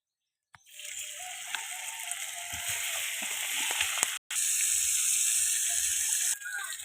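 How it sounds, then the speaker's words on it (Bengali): Fish pieces dropped one by one into hot oil on a clay stove, a steady loud sizzle that begins abruptly and runs continuously with brief breaks, close by and without talk. "এদিকে তেলটা গরম হয়ে গেছে, আমি এক এক করে মাছগুলো দিয়ে দেবো"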